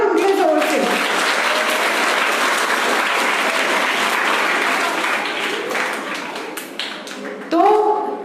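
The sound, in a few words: applause, children clapping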